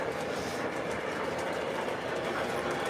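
An O scale model train running on its track, a continuous close rumbling roll with faint rhythmic clicking, steady and fairly loud throughout, no voices.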